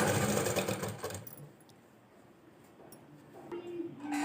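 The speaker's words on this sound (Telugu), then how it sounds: "సో ఇప్పుడు కింద సైడ్ స్టిచ్ వేస్తున్నాను." A sewing machine stitching fall fabric onto a saree runs in a dense whirring burst, goes quiet for a couple of seconds, then starts up again near the end.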